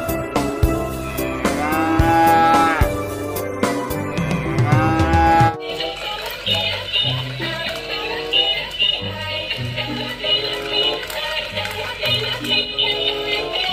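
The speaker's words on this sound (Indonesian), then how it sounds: "di sini ada sapi" A cow in the video game Jurassic World Evolution 2 moos in long, drawn-out calls over the first few seconds, then a steady game background of tones and rhythmic sounds continues.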